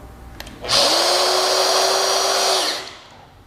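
An AGP electric metal pipe press tool runs with a loud, steady motor whine for about two seconds, starting abruptly and winding down as power cuts, with no talk.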